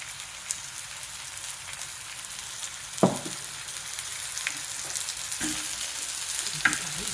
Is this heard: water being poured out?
no